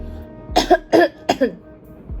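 Three short, harsh coughs from a person with COVID-19 in quick succession, close to the microphone, followed by a faint breath.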